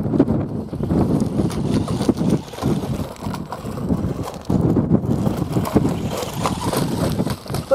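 Strong gusty wind buffets an outdoor microphone during an off-road run of a DEERC 9000E RC car, a continuous low rumbling roar that swells and dips, with brief louder gusts and no talking.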